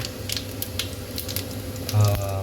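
Whole spices such as cumin, cinnamon, cloves and cardamom hit hot oil for tomato rice, giving a steady close sizzle with sharp crackling pops and a louder burst of frying near the end.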